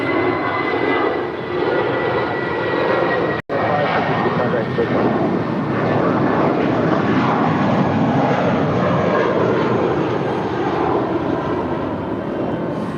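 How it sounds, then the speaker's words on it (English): A seven-year-old Spirit Airlines Airbus A320 jet departing LAX for Las Vegas, a loud steady engine roar filling the whole stretch with one brief dropout partway through. "That is Spirit 562 departing to Las Vegas. It's a 7-year-old Airbus A320."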